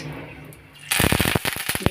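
Asafoetida dropped into hot cumin-seeded oil for a Gujarati brinjal oḷo, starting a sudden loud crackling sizzle after a quiet opening, with dense popping bursts continuing to the end.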